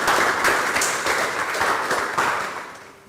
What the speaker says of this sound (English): She deserves a good round of applause.